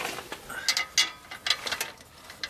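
A ratchet wrench undoes the downpipe bolts on a Nissan 200SX S14 with an SR20 engine during a Garrett turbo change. Close, quick ratcheting clicks come in short uneven bursts.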